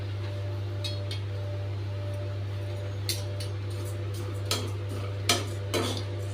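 Flattened rice (aval) being dry-roasted in a pan, with a spoon scraping and clinking against the metal in sparse, brief strokes over a steady low hum.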